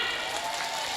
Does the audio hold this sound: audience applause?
yes